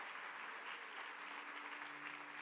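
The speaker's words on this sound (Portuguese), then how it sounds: "Vamos dar um aplauso a Jesus por isso" A church congregation applauds during a Sunday service, a steady, even wash of clapping heard faint and distant with a low sustained tone underneath.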